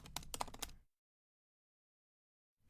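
Several quick keystrokes tap on a computer keyboard in a short burst while writing a first Python program, followed by near-total silence.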